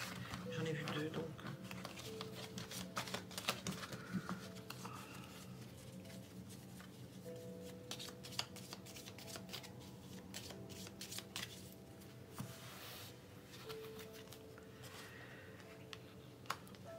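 Lenormand cards shuffled by hand in a fortune-reading session: a steady, soft patter of riffling and sliding card stock that runs throughout, close and fairly quiet, with a few sharper taps along the way.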